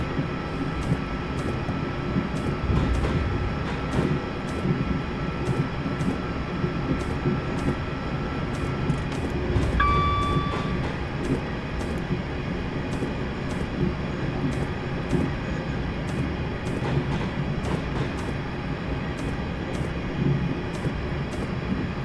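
A London Midland Class 350 electric train runs in Train Simulator 2019, a steady rumbling drone with faint ticking and a brief high tone midway, continuous and fairly loud with no talking.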